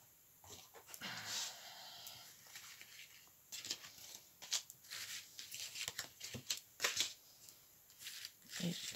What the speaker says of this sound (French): on sort toutes les cartes